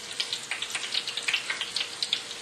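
Chamorro-style shrimp patties fry in hot oil, a close, busy crackle of rapid bubbling pops and spits over a soft steady hiss.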